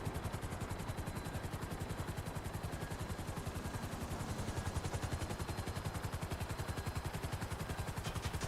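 Rotor-like chopping from a helicopter in a video game, a steady rapid beat running throughout at a constant close level, with a dense hiss above it.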